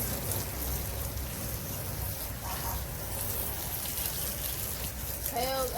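Water splashes and patters steadily from a hose as an outdoor elevated puppy pen is rinsed after bleaching, a continuous spray-like wash with a brief voice near the end.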